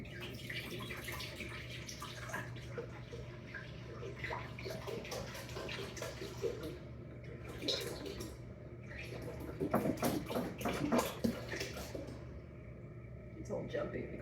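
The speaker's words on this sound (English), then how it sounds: "taking the gallon of milk, opening, and transferring it into my" Whole milk pours from a gallon jug into a cooking pot for homemade mozzarella, a gurgling, uneven liquid stream that surges and glugs near the end, over a low steady background hum.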